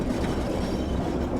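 A Class 08 shunting locomotive in the Train Sim World 2 game rolls along with a steady low rumble of rail running, continuous and fairly loud, with no voices.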